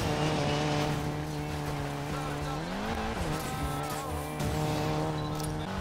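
A car drifting in the racing game Need for Speed Payback, with a loud sustained engine drone and long wavering tire squeals as the car slides around a bend, continuous and close.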